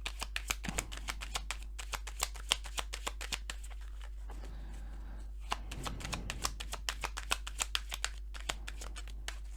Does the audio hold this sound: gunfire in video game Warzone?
no